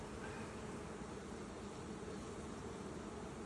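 Honey bees at an open backyard hive during a frame inspection make a steady, dense hum throughout, moderately loud and close, with no talking.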